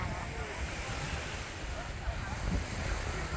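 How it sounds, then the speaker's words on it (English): Rough ocean waves break on the beach at Ocean Cay, a continuous wash of surf mixed with wind buffeting the microphone, fairly loud and close. "the waves here are a little more rough because this is the actual ocean"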